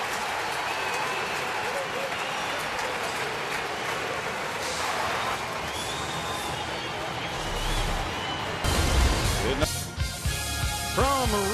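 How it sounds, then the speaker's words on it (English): Baseball crowd at a soggy Wrigley Field in Chicago giving a broad, distant ovation after a line-drive single to right field, with a broadcaster talking over it. "Very appreciative crowd with a big ovation for Altuve."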